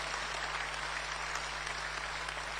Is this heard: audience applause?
yes